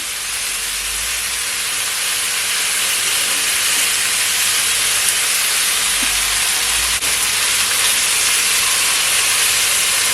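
Oxtail searing in a hot pan for Jamaican oxtail gives a steady, loud hiss of sizzling fat that runs unbroken and close for the full stretch, with no voices.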